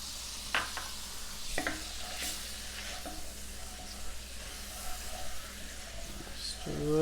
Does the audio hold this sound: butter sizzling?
yes